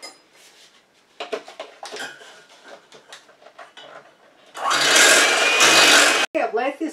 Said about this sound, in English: now once again I'm going to use my mixer to really mix this up